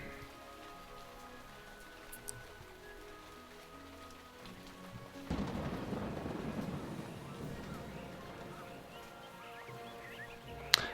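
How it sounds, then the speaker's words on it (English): Rain pours in the video game Two Worlds II, a steady hiss of falling water that swells heavier midway, with soft game ambience and a few faint clicks around it; no distinct thunder stands out. "Oh, we got rain now. That's new."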